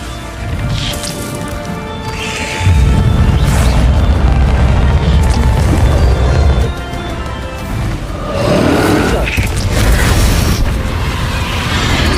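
Bombarda blasting spell explosions go off in Hogwarts Legacy combat, with heavy booming rumbles and crashing debris that swell and fall across a dense, loud battle mix, with no talk.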